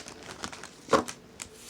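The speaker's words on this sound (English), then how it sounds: "Let me just give it a quick shuffle." Tarot cards given a quick shuffle, a rapid series of soft papery flicks and riffles with one sharper snap, quiet and close.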